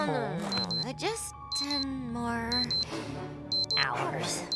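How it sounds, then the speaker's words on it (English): A cartoon alarm clock rings in repeated bright electronic bleeps over animated character voices talking excitedly. "An alarm?"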